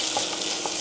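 Ginger garlic paste being stirred in a hot frying pan, giving a steady bright sizzle with a few soft scraping strokes of the spoon.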